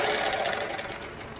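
Steady, close mechanical whirring comes from a sewing machine stitching a lining blouse, in one brief unbroken burst.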